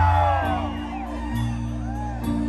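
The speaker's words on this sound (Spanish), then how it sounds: "¡El grito mexicano!" At a live Mexican music concert in Morgan Hill, California, the crowd lets out the grito with loud whoops and long wavering yells over sustained music that swells and falls.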